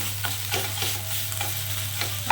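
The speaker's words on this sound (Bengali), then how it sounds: "এটাকে একটু ভালো করে আমি ঠিক ভাজা ভাজা করবো" Steady sizzle of potatoes frying in a pan with a low hum beneath, interrupted by occasional scraping stirs, close by and fairly constant.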